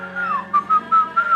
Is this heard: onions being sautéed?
no